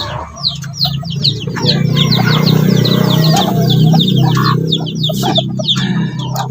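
Pigeons call and coo in a busy flock with many overlapping short chirps and calls over a low steady hum, continuous and close.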